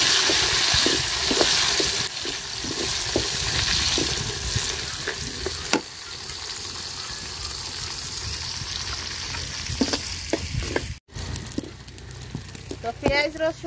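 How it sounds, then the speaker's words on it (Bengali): Onion, garlic and dried fish fry in a pan with a continuous crackling sizzle, broken by repeated stirring scrapes and clinks. A brief drop in sound comes near the end, and a voice speaks intermittently over the cooking. "পেঁয়াজ রসুন শুটকি আমি সুন্দর করে এই যে লাল লাল করে ভাজা নিচ্ছি"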